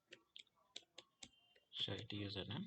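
A handful of separate, crisp computer keyboard key presses in quick succession, close and quiet, followed by someone talking.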